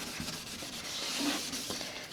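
Wet sandpaper rubs over a yellowed car headlight lens in quick, steady back-and-forth strokes, a close, gritty scrubbing with no talk.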